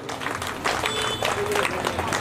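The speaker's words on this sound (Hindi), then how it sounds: "इनके लिए ताली बजाएं।" An audience at a devotional religious gathering claps in irregular bursts of scattered hand claps, moderately close, with voices mixed in underneath.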